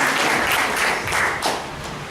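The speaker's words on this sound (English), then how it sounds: "Let's give a big round of applause to all the assignees." A room of Toastmasters club members applauds the assignees in a warm, steady burst of clapping that swells and eases slightly over about two seconds, with no talk over it.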